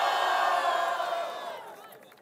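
A loud, close crowd roars and cheers at a rap battle, the sustained shouting swelling and then fading over a couple of seconds.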